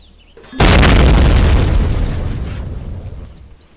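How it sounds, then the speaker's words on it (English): A base self-destructing in the space survival game Empyrion erupts in a sudden massive boom after a brief quiet hum, then a heavy rumbling roar that slowly fades over a few seconds. "That explosion didn't sound good."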